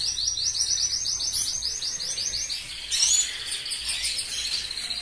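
Male canaries in a breeding cage chirp and trill in rapid repeated bursts, loud and close, with a brief overlapping warble midway and no voices.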